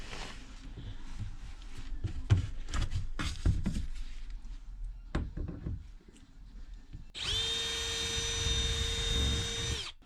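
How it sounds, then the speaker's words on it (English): Power drill boring holes in wood during a full-height teardrop camper build, with short knocks and taps, then a steady whining drill run near the end, close and clear. "I just drilled these two from the side here"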